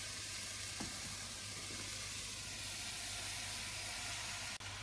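Steady, close sizzle and hiss of a leg of lamb frying in a hot pan for an Easter recipe with apricots and red onions, a continuous crackling fry with a faint clink near the start and a brief dip near the end.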